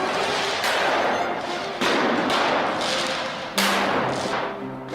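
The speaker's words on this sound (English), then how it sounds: "Fireworks going off during a police raid at the Al-Aqsa Mosque." Fireworks go off during a night police raid at the Al-Aqsa Mosque in Jerusalem: several sharp, loud bangs burst at irregular intervals over a constant noisy background.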